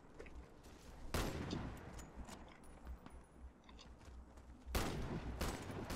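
Two sharp bursts of rapid gunfire in the video game Warface, fairly quiet, with low background rumble between them.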